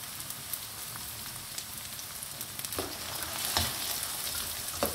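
Finely chopped carrot fries over high flame for a mutton spring roll filling, with a spoon stirring quickly through it; a constant close sizzle with a few clattering scrapes that grow louder toward the end.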